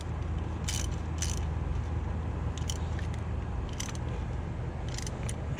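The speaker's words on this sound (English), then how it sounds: "tighten the wrench" Wrench tightening a spark plug on a Kawasaki Ninja 250, with bursts of ratcheting clicks heard close up over a steady low background hum.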